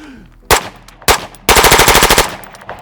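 An FN P90 fired one-handed: two sharp single shots followed by a fast, loud burst of about a dozen rounds in rapid automatic rhythm, close and clear with no talk.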